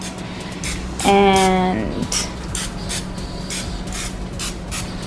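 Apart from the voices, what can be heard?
spraying canola oil cooking spray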